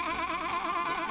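A human voice imitates a sheep's wavering bleat in one drawn-out, quavering baa.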